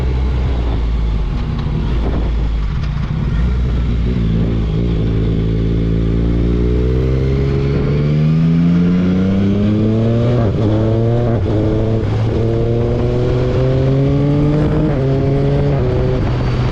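A Yamaha Tracer 900 motorcycle accelerates hard, its engine note climbing steadily through the revs with loud, close, continuous exhaust drone and no talking.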